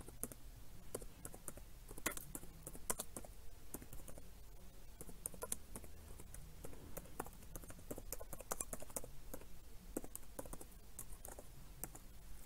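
Python code being typed on a computer keyboard, quiet irregular clicks and key taps pattering steadily in close detail, with no voices.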